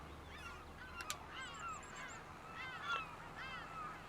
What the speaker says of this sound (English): The seagulls are back.